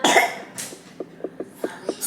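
A small, soft cough repeats as a rapid series of light, evenly spaced coughs, mostly quiet after a louder, breathier burst at the start.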